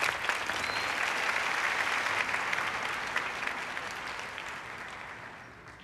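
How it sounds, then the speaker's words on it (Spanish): Audience applause at a children's wind orchestra performance in Colombia, a broad even wash of clapping that slowly fades toward the end. "Y vamos a dar un fuerte aplauso al Todopoderoso."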